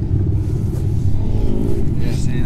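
A 1999 Yamaha YZ250 two-stroke dirt bike engine revving up close, a loud, continuous rumbling drone throughout with slight surges.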